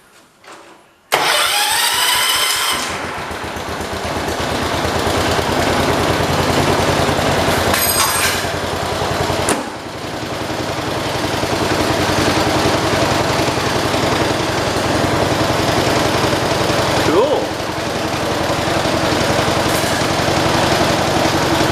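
A 1977 John Deere 212 lawn tractor engine cranks briefly, fires up and settles into a loud, steady close-up idle, with a momentary dip partway through before it evens out again.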